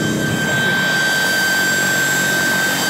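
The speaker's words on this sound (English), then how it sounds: "The helicopter is actually handling really well." A helicopter flies overhead during car filming for a Nissan Sentra SE-R drift shoot, its steady rotor and turbine roar held loud and constant throughout, with a thin high whine running over a dense wash of engine noise.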